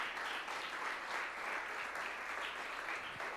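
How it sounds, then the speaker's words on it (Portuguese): A congregation at a church service applauds in a dense, even wash of clapping that holds steady and fairly loud throughout, with no voices standing out. "Vamos dar uma salva de palmas a Deus por essa palavra?"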